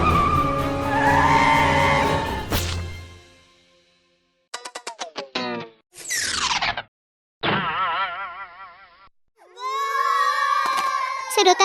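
Cartoon scooter ridden by an animated monkey braking hard, with a bright boing-like twang followed by several sharp squealing skid bursts separated by brief silences, loud and close.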